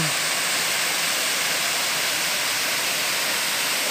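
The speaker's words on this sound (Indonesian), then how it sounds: "kita sekarang berada di air terjun" A loud, steady waterfall roar, continuous broadband rushing water filling the whole clip, at Tujua waterfall in Maros, South Sulawesi.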